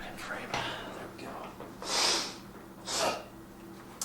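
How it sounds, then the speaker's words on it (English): Two short, breathy nasal sniffs from someone with a runny nose, spaced about a second apart, close and fairly soft against quiet room tone. "I've got the sniffles today."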